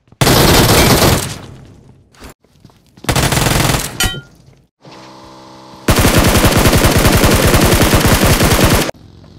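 Loud bursts of automatic gunfire from a gun in the PUBG Mobile video game, several long rapid-fire volleys separated by short gaps, with the last sustained burst running for about three seconds.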